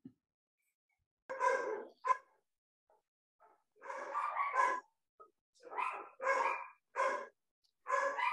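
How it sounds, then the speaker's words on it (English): Dogs bark in a home setting, heard as several sharp, separate barks and short bursts spread through otherwise quiet stretches. "I apologize to all for my barking dogs."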